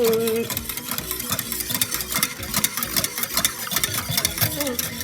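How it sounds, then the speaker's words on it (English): A gelatin dessert mixture whisked by hand in a bowl until smooth, giving quick rhythmic scraping and tapping strokes that repeat steadily at close range. "Keep whisking"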